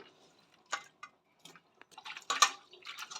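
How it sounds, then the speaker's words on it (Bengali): Flour dough squeezed and washed by hand in a bowl of water, giving faint, scattered wet squelches and drips in short bursts with quiet gaps between. "ময়দাটাকে কিভাবে কচলে কচলে ধুয়ে নেওয়া হচ্ছে"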